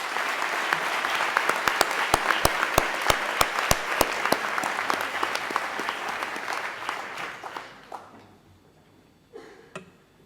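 Audience applause at a school award ceremony, a dense burst of clapping with sharp individual claps that dies away after about eight seconds, leaving a few scattered claps.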